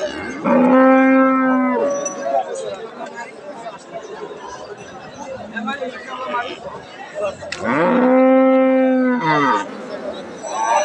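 A dairy cow at a cattle market gives two loud, drawn-out moos, one at the start and one near the end, close by, with people chattering in the background.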